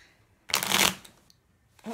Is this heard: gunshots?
no